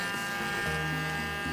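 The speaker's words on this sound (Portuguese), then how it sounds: "a gente vai usar a varinha mágica" A handheld immersion blender whirs steadily as it purées a sauce with onion and garlic. The buzz is close and continuous, and its pitch shifts slightly partway through as the load changes.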